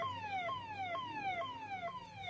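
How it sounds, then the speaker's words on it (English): Repeating downward-sweeping emergency siren, likely from an ambulance, wailing loud and steady about every half second on a junction-detection setup, with no talk over it. "Another siren we can give."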